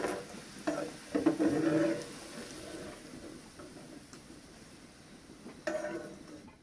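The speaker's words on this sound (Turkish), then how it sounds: "Patateslerimiz çok da kızardı." Potatoes frying in a pan, a soft intermittent sizzle with a few stirring scrapes, fairly quiet and close.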